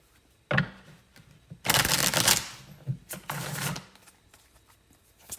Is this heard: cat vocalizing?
no